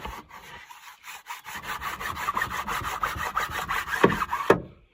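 Boilie dough sausage is pressed and rolled under a board, giving a dry rasping rub that runs in repeated strokes, loud and close, ending with a couple of sharper scrapes and then silence.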